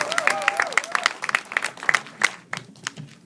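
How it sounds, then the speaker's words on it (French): Scattered audience applause at a Latin American film festival awards ceremony, distinct individual claps spaced unevenly and fading out, with a voice speaking briefly near the start. "une bonne main d'applaudissements pour Yuri"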